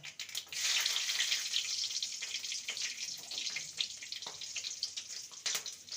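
Nigella seeds and two slit green chillies crackle and sizzle in hot oil, a steady loud frying hiss with scattered pops running throughout, no talk.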